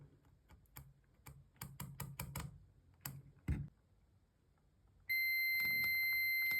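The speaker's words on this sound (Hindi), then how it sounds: "जैसा कि ये बीप की आवाज़ दे रहा है, मतलब ये सिग्नल यहाँ तक आया।" Soft clicks and taps of probing on an inverter AC circuit board's thermistor section give way to a multimeter's continuity beep, a steady loud electronic tone that holds unbroken to the end.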